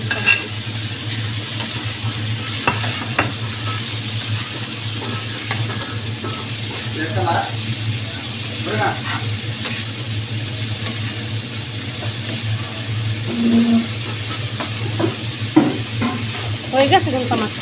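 Leafy greens (shak) fry in a pan with a steady sizzle, while a spatula scrapes and stirs them in irregular strokes; a few faint clatters and knocks rise over the continuous frying.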